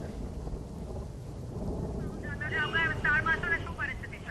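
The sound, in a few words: steady light drizzle during rain in Ahmedabad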